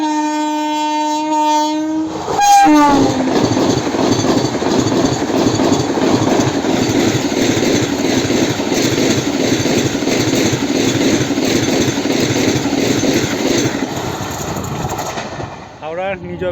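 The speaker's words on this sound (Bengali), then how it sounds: "যাই হোক, বন্দে ভারত আসছে।" A Vande Bharat express on the Howrah–New Jalpaiguri line sounds a loud horn, then thunders past at high speed for about twelve seconds in a steady roar of wheels and rushing air before fading.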